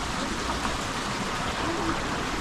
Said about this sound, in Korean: 지금 비가 많이 와서 우리 집 옆에 개울에도 물소리가 많이 들리고요.